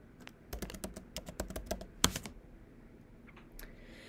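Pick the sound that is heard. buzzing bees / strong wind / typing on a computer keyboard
typing on a computer keyboard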